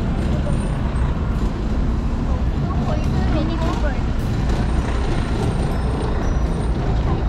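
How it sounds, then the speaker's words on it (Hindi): Steady roadway traffic on the Johns Hopkins University campus: cars, buses and trucks rumble past continuously, with a hiss like air brakes, fairly close and loud, while people talk over it. "तो कैंपस में इतना ट्रैफिक है।"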